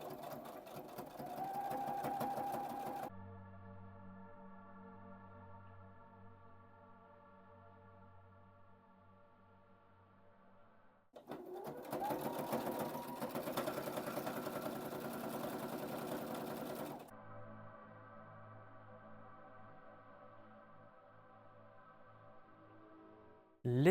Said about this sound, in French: Je vais coudre avec une distance entre les points de 3.